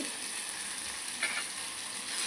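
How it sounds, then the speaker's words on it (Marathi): Sliced small tomato sautéing in a home kitchen pan, a steady soft sizzle and hiss that stays fairly even throughout, with a brief stir or clink partway through. "आणि टोमॅटो सुद्धा छान असे परतवून घ्यायचे।"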